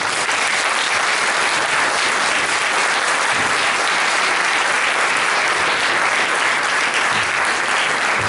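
Concert audience applauding the members of a philharmonic association: loud, dense, sustained clapping from a large crowd that continues evenly without pause.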